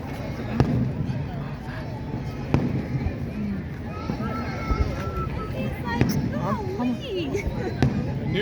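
A Fourth of July fireworks display in Annapolis sends a few sharp, distant booms, about four spaced bursts over a steady crowd murmur, while people nearby talk throughout.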